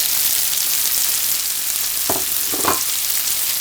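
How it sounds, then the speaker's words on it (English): Onions sweating in butter alongside bacon fill the pan with a steady broad sizzle, broken around the two-second mark by two short scraping stirs, with no voices. "You give that a stir"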